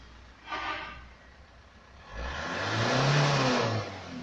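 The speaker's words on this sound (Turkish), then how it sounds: "Tam gaz yap bırak." Car engine revved hard at full throttle during a hydrogen carbon cleaning service, a short blip first, then a longer loud rev that holds and falls away as the throttle is released, with no talk.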